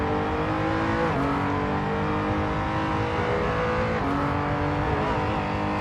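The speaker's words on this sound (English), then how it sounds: "This car does sound nice." A race car engine in an endurance racing video game drones loudly and steadily throughout, with pitch sweeps as it shifts gears and accelerates, and no talk over it.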